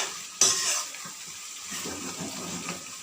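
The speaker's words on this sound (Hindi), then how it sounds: "अब हम इसे अच्छी तरह भून लेंगे" Meat curry with added paste and yogurt sizzles in a pan, opening with a sharp hiss as it is stirred, then settling into soft steady frying and occasional scraping, with no talk.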